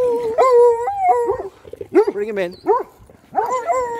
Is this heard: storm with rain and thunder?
no